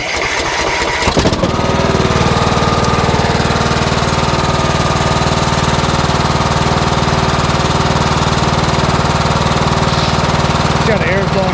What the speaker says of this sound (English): Let's fire it back up and see if smokes like that still.